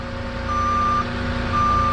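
A Moffett truck-mounted forklift gives out steady reversing beeps over its low engine hum. The beeps are loud and close, and the two tones repeat evenly across the short stretch.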